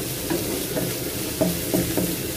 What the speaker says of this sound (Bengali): তো পেঁয়াজটা একটু ভালো করে ভাজবো।